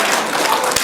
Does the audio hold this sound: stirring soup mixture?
no